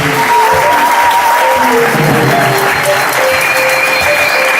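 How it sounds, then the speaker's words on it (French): A church congregation applauds together in a steady, loud wave of clapping that fills the whole moment, with faint voices and musical tones mixed in beneath the dense crowd applause. "Applaudissons pour le Seigneur."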